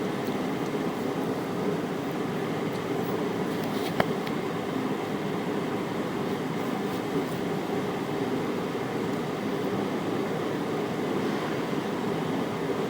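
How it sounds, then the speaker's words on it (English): Handicap restroom toilet flushed with paper, giving a steady rushing roar of water through the flush valve, loud and continuous, with a single sharp click partway through. "this is the handicap restroom flush"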